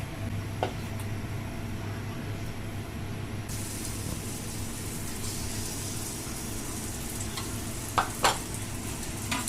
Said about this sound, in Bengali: তেলে পিঠে ভাজার জন্য এই লোহার কয়রাগুলোই পারফেক্ট